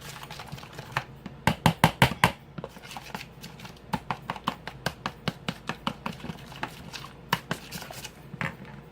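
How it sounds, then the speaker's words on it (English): Cold egg, butter and half a teaspoon of salt are mixed in a bowl for keto garlic Parmesan crackers, giving a close run of quick irregular clicking and tapping strikes, densest at the start and thinning out later. "I'm going to mix this up."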